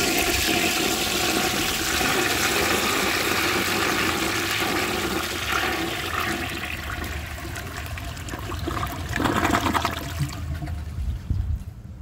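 Water rushes and gurgles through a 1988 Artesian Atlantis toilet fed by a high tank on a half flush, a loud sustained surge that tapers into trickling refill.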